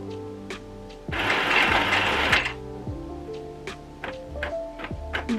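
A home sewing machine stitches a single piece of fabric in a short whirring burst of about a second, framed by quiet mechanical ticks and clicks before and after.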